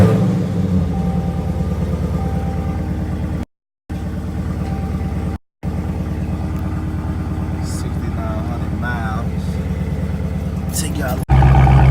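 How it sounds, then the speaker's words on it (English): A 2017 Dodge Charger Scat Pack engine with a mid-muffler delete rumbles loudly and unevenly with a deep, throaty idle and brief revs, interrupted by two short silent gaps, while someone talks over it. "I'm gonna start her up one time. Show y'all how good that mid-muffler delete sound."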